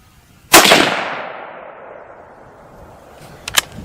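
A single loud, close .243 Winchester rifle shot firing Remington Core-Lokt Tipped ammunition at a 100-yard range, with a sharp crack and a long decaying echo, followed by a couple of faint clicks.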